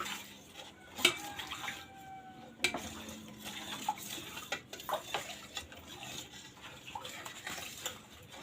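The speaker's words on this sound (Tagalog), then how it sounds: "ihalo muna natin siya guys para ma-dissolve yung cornstarch sa tubig" A utensil stirs cornstarch into water in a pot, giving faint, sparse clinks and swishes with a few sharper taps against the vessel. The stirring is quiet and close, and no one speaks.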